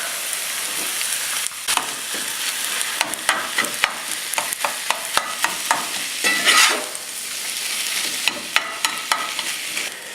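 Ground white-meat turkey browns in a pan with a steady sizzle, while a spoon scrapes and breaks it up in repeated sharp clacks throughout.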